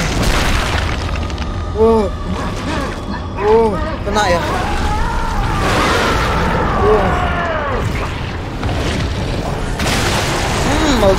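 A booming explosion in the horror game The Evil Within, played on Xbox Series X, bursts out amid layered game sounds and tonal music, with someone talking over the action.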